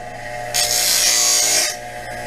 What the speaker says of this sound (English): Let's go grind this one and see what this is.